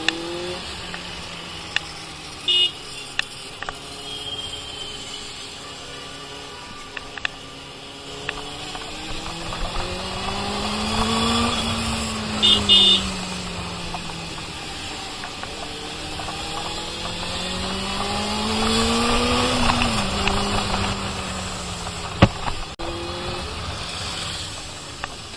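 Benelli 600i motorcycle engine droning steadily, its pitch sliding up and down as the bike accelerates and eases off, growing louder toward the end with brief clicks over the top.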